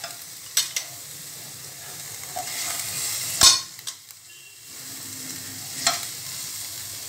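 Butter melts in a pan with capsicum, garlic and ginger paste, making a faint, low sizzle with a few isolated clicks and one sharp utensil tap near the middle, quiet overall.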